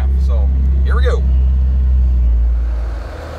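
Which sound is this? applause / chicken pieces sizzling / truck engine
truck engine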